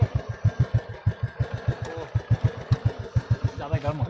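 A motorcycle engine, running hot after off-roading, idles close by with a steady thumping pulse, loud and even throughout.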